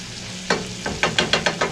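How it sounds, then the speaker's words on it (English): Diced ham, bell peppers and onions frying in a skillet, with a steady sizzle and a run of quick scraping stirs near the end. "And let it just cook those bell peppers and onions. Continue to crispify up the ham until it all comes together."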